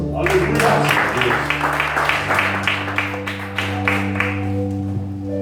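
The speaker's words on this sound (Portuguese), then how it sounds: "Aplauda o nome do Senhor." A church congregation claps in a steady rhythm alongside sustained organ or keyboard chords during a worship service, the claps coming as regular sharp pulses over the music.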